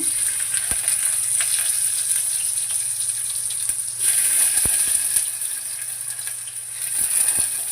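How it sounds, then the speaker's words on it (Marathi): Chopped onion sizzles steadily in a small amount of hot oil for a tempering, a bright constant hiss with occasional soft pops and clinks of a utensil. "तर आता आपण फोडणीला कांदा टाकूया."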